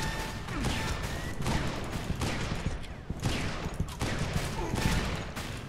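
Gunfire in a loadout match in an online video game, dense rapid bursts of shots from a barbed sniper machine gun with crashing impacts, loud and continuous.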